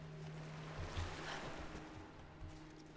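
Steady water ambience in Rise of the Tomb Raider, a continuous low wash of waves and flowing water with a faint hum, even in level and without talk.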